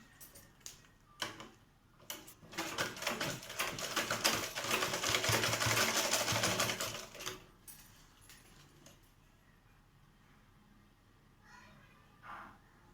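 A sewing machine stitches a straight seam on a child's lehenga, a fast mechanical rattle that builds for a few seconds and then stops, followed by quieter handling clicks.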